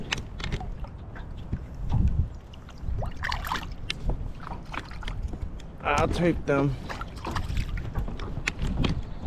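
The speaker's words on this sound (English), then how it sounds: "It's windy as heck." Gusty wind buffets the microphone out on a lake while fishing from a rented boat, rising and falling in bursts under a voice and small splashes.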